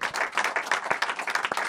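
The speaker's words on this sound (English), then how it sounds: "Give him a round of applause," A television studio audience applauds, dense rapid clapping filling the room steadily throughout with no one speaking over it.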